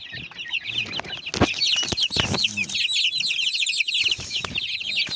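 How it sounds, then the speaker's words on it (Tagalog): Chicks and young stag chickens in a small backyard pen cheep and cluck constantly, a dense chorus of high peeps with a few lower clucks, close by, while someone speaks briefly underneath. "madami tayong sisyo ngayon dito yan yung ibang sisyo natin stag lahat"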